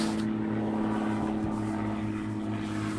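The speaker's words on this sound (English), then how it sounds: "There's one of the local farmers comes flying over his plane, quite low, as you can hear in the background" A local farmer's propeller plane passes low overhead near a provincial T20 cricket ground in Mpumalanga, giving a steady droning hum with a low buzzing pulse throughout.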